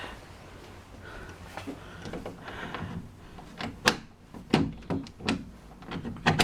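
A bedroom door leading out onto a veranda is opened, giving a few faint clicks and soft thuds from the latch and frame against a quiet room hiss.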